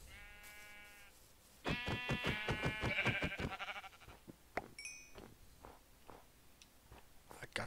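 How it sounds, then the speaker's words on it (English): A sheep in Minecraft bleats two distinct times in quick succession, loud and close, followed by scattered soft clicks and thuds. "I found a sheep."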